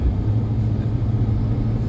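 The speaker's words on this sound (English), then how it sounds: "Man, this is a heavy duty vehicle, man." Heavy-duty vehicle driving along a road toward East Legon Hills, Ghana, giving a steady, loud low engine and road rumble heard from inside, continuous throughout with no talking.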